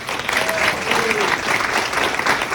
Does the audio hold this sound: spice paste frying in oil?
no